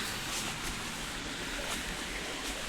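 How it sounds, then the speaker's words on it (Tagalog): Strong river water rushing during a typhoon, a loud, steady broadband roar of churning flow with gusty wind buffeting the microphone, no voices. "Ang lakas ng tubig."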